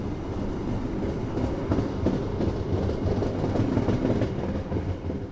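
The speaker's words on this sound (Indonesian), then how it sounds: "Perjalanan kereta api Argo Merbabu tambahan yang saya naiki telah tiba di stasiun Bekasi" An additional Argo Merbabu passenger train out of Jakarta rolling along the rails, a steady, close rumble with faint rhythmic wheel clatter running unbroken throughout.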